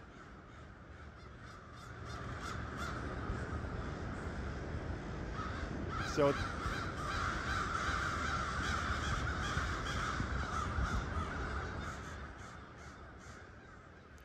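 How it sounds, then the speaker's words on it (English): Crows cawing loudly in the morning in central New York, a flock calling repeatedly at a distance, with harsh overlapping caws building and fading; a brief word is spoken near the start. "the birds woke us up this morning. They were pretty loud"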